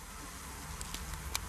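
Honeybees buzz softly as they swarm an intruding wasp, a faint, steady insect hum with a few short, sharp buzzing bursts toward the end.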